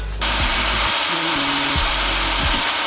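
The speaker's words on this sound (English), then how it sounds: "drill a hole from the top here down here" A power drill bores a hole through the frame of an 80cc two-stroke gas bike kit, its steady motor whine running loud and close throughout with pitch shifts as the bit works.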